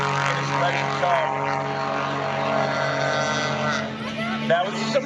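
A Legend Cub airplane powered by a hopped-up YeeHaw snowmobile engine drones steadily with a strong propeller whine during a STOL drag race, close and loud, with a voice talking over it.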